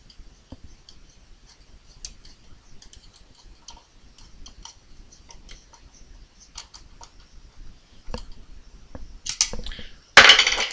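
A screw being tightened on a TPX paintball marker during a Q-loader install gives light, close ticking clicks scattered throughout, with a louder burst of handling noise near the end.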